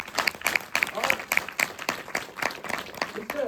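A seminar audience claps together in a loud, dense burst of applause that holds steady throughout, with voices carrying over the clapping.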